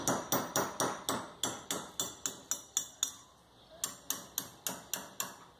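A small knife scrapes and cuts the copper wire windings off a spark ignition coil, giving a steady run of sharp, ringing metallic strokes about twice per second, close and loud, with a short pause partway through.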